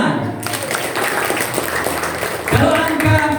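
An audience claps through most of the clip, a dense steady patter of applause with a voice speaking over it briefly near the end.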